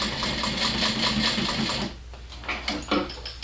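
Sewing machine stitching a fabric strap, a fast rhythmic mechanical whirr running steadily before stopping, followed by a few soft clicks and handling sounds.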